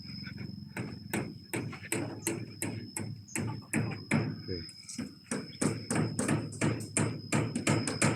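Nails are hammered into flat sheets on the side of a house during roof repair, a steady series of sharp, close blows at a quick, even rhythm, with someone talking over them.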